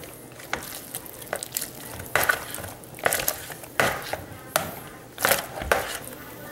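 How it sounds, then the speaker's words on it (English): Rigatoni and red sauce stirred and folded together in a pan, irregular scraping and clunking strokes of a utensil against the pan, close and fairly quiet, with a soft background hiss between strokes. "Let's just stir that in. Just fold everything over."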